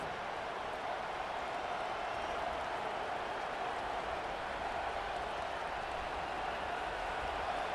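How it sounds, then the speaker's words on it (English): A stadium crowd in EA Sports College Football 25 cheers in a steady, dense roar of noise that holds at an even level throughout. "Decibels rising as the crowd gets behind this defense on third down"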